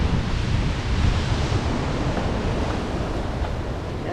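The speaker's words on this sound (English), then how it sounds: "high tide, this could be interesting with surf coming in" Ocean surf rolls in at high tide along a coast south of Puerto Vallarta, a steady loud wash of breaking waves mixed with wind rumble on the microphone, with no talking.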